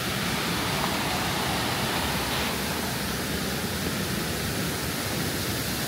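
A waterfall pours steadily, a broad, unbroken roar of rushing water close by, constant and even throughout with no voices or pauses.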